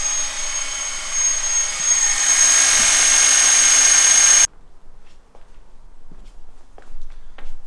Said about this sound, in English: drilling into a piece of metal and hopefully getting a bracket sorted